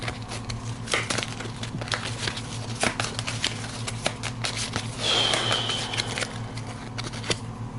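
A deck of game cards being shuffled by hand at a tabletop, soft irregular riffling and slapping close by over a steady background hum, with a brief flurry in the middle.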